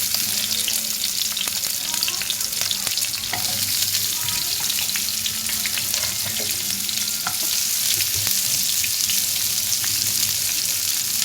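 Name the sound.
onions frying in pan with whole garam masala spices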